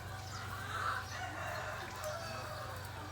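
A rooster crows during preparations for a tree-wrapping puja ritual, its call rising at mid distance over a steady low mechanical hum, with no talking.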